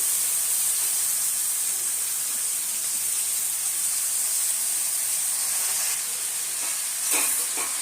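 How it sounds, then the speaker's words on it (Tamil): Banana flower tipped into a pan of sautéed onions for a stir-fry, crackling in a steady broad hiss throughout, with a few louder clatters and a surge near the end as it is stirred. "இப்போ வெங்காயம் நல்லா வதங்கிடுச்சு நம்ம வாழைப்பூ சேர்த்துக்கலாம்"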